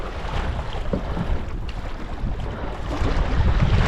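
A small fishing boat runs diagonally across sizable rolling waves on open water, giving a constant loud engine and hull rumble under heavy wind buffeting on the microphone, with no talk.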